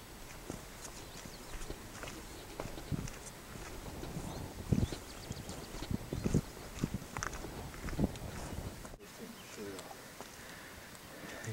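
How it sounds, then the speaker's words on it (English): Ponies walk up on an Appalachian Trail hillside, their hooves making soft, irregular clip-clops on the ground amid wind and outdoor noise, with people talking nearby. "These ponies are just kind of coming right up to you."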